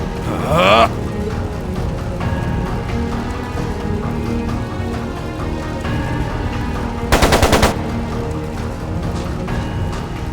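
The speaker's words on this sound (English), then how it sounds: "It sounded like a machine gun." Machine gun fire in the video game Trails of Cold Steel 2: a short, sharp rattling burst rises over steady game background sound, with voices talking around it.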